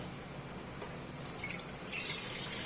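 Water pours steadily into a pot for boiling sweet potatoes, a continuous close splashing and trickling that grows slightly brighter toward the end.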